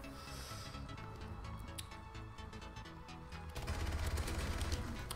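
Rapid bursts of video game gunfire from an HBRA3 assault rifle, steady and continuous over layered game sound and music, growing denser and louder toward the end.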